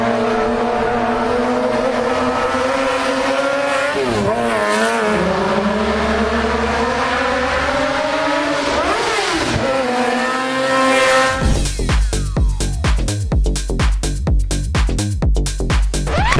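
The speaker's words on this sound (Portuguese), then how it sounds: "curte um pouquinho do som do R1" A Fiat Uno fitted with a Yamaha R1 motorcycle engine revs loudly and close, its high-pitched whine rising and falling through several throttle blips before giving way to a dense burst of crackling noise.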